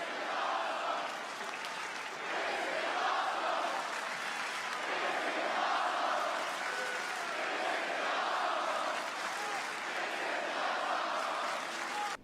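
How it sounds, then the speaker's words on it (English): A large wrestling crowd at a SmackDown event roars and cheers without pause, loud and dense throughout, with applause and shouting blended into one steady wall of noise. "Crowd going crazy, people passing out."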